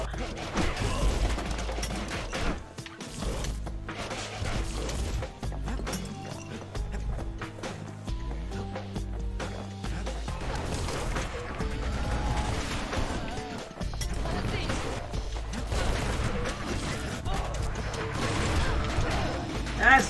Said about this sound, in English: That's too much cannon.